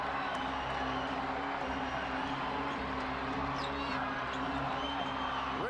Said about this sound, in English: And the crowd here at the Coliseum near delirium.